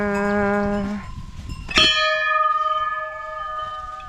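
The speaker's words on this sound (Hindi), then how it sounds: "घंटी बजाते हुए आएंगे अभी" A large temple bell rings with a long humming tone, then is struck again sharply and resonates, its ringing slowly decaying with a gentle pulsing waver.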